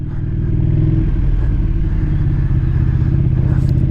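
A KTM motorcycle engine fitted with a full Akrapovic exhaust system idles and rumbles loudly and steadily nearby, a deep continuous drone with a slight low-rev shudder.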